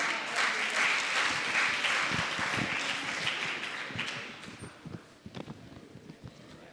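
Audience applause for the panelists at an Asia Speaks event in Aceh: a sustained wash of crowd clapping that thins into a few louder, scattered claps before fading out.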